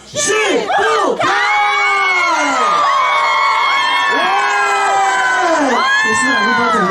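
Concert crowd at an outdoor Hakka tea-picking song music festival in Toufen, a loud sustained mass of screams and cheers across the whole stretch, with shrill yells rising and falling in waves.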